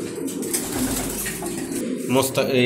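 Racing pigeons in a loft give soft, murmuring coos close by, a brief burst of low throaty calls with a little rustling.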